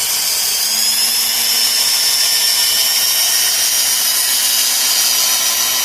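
A cordless drill polishes a headlight lens with K2 Lamp Doctor paste, giving a continuous loud high whine with a steady motor drone and no breaks, close by and with no voices.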